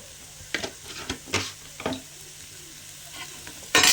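Curry leaves dropped into hot oil for a crab rasam crackle and sizzle in the pan, with a few sharp stirring scrapes and bursts of spattering, ending in a loud hiss of frying.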